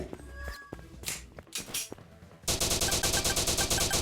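Gunfire from a sniper rifle in the mobile game Battle Gun 3D: a few separate shots and game sounds, then a loud, evenly spaced rapid string of shots.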